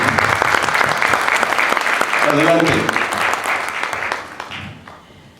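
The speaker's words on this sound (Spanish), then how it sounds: "les pido un aplauso para ellas" An audience at a bookstore book presentation applauds two women guests, a dense burst of clapping that fades out toward the end, with a voice speaking briefly over it.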